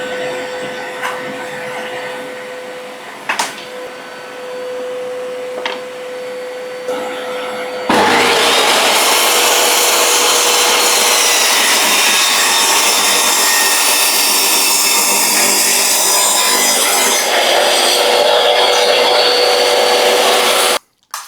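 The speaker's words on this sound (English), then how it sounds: "cut the thin strip down to 1/2 an inch bigger than the width of the baseboard" Power saw cutting a thin wood strip down for baseboard trim, a loud steady broadband whine starting abruptly partway in after a quieter tonal hum, running continuously until it cuts off at the end.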